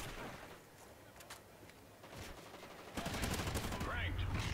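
Gunfire in the video game Call of Duty Ghosts, rapid automatic shots that grow louder and denser in the last second or so, set against a busy game soundscape.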